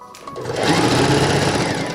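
A sewing machine starts up and runs in a fast, loud, buzzing mechanical chatter, close by and on its own.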